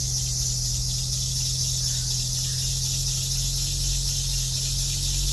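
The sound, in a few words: car engine belt squeal on start-up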